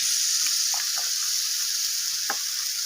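Spices with garlic and ginger paste fry in a pan for a prawn and mixed vegetable chorchori, making a constant bright hiss with a few soft stirring scrapes breaking through, close and even.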